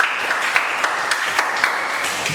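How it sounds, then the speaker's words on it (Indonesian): Classroom applause from a group of students, steady dense clapping with sharper individual claps poking through, filling the whole stretch without talk. "Tepuk tangan dulu."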